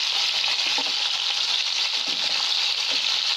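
Tomatoes, onion and carrots frying in a pan, a dense, even hiss of sizzling oil that stays loud and close for the whole moment, with faint scraping underneath.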